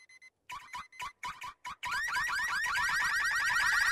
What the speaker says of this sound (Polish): Ten alarm to trzeba zmienić.